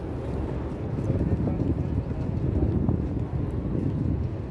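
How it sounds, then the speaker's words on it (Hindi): Cold winter morning wind in the open air before the Prophet's Mosque in Madina, a steady low rushing buffet against the microphone that holds throughout, with faint background sounds beneath. "बहुत ही ठंडी हवा चल रही है"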